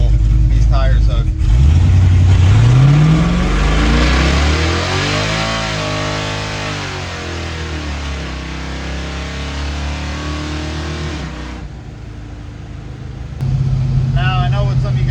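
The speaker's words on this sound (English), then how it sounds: "we're gonna do a quick dig real quick just to kind of show you guys how absolutely awful these tires hook" A truck with a new intake launches hard on poorly hooking tires, its engine roaring up through the revs in a loud sustained pull, easing off briefly before another burst near the end.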